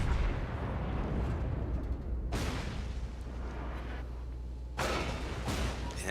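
Naval guns fire at a Furutaka cruiser in a warship video game, with two heavy booming salvos that roll out into long rumbling decay over a steady low engine drone.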